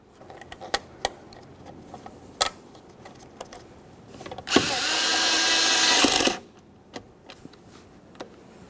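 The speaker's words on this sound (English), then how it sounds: "we can reinstall our Phillips head screw. We'll start that in by hand and snug it up." Phillips head screw on a 1994–1999 Honda Accord door jamb is snugged up by a power driver in one loud whirring burst of about two seconds, framed by scattered sharp ticks and clicks.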